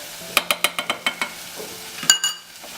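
Onion sautés in a pan with fenugreek seeds and cumin. A quick run of about seven crisp tapping strokes comes over a light sizzle, then a louder metallic clatter, with no talk.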